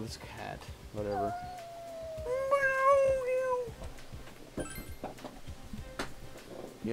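A cat in the video game Persona 4 lets out one drawn-out, wavering meow in the middle, with a person talking before and after it.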